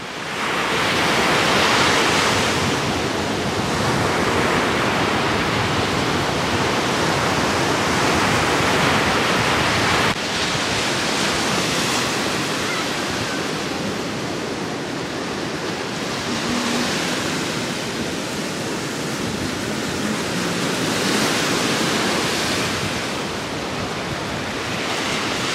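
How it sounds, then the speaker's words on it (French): Big sea waves crash onto a beach in a loud, continuous roar that swells and surges for the whole stretch, with wind and no voices. "Mais ces vagues, oh mon Dieu, c'est pas possible."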